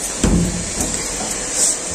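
A washing machine runs with its door open, producing a steady, broad whirring hiss. A few soft knocks sound close by, with no voices.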